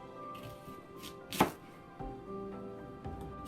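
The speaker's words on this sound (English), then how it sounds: "right now I just cut it. Cut the Brussels sprouts." A knife cuts Brussels sprouts in half on a cutting board, giving a few close, sharp chops spaced irregularly, with one louder thunk standing out in a quiet kitchen.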